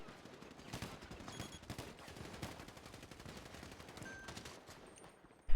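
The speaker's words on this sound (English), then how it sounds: "Guys, you're shooting." Video game gunfire inside a gun store, rapid bursts of shots cracking densely and fairly loud throughout, with a sharp jolt at the very end and no talk.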